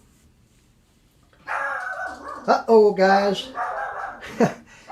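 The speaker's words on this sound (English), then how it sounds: "the Yorkshire Terrier, the Yorkie, he's barking" A small Yorkshire Terrier yaps a few times in short, sharp barks, close by and mixed with someone speaking briefly.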